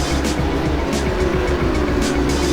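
GT3 race cars at the start of an Assetto Corsa race at Zandvoort, a steady dense roar of several engines close by, revving hard and continuous with no pauses.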